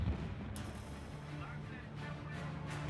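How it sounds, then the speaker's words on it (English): Distant battle din from a WWII-era tank engagement, low rumbling booms and heavy impacts rolling under a muffled, noisy background, fairly faint throughout. "The sounds of battle grow louder, and there are several huge explosions."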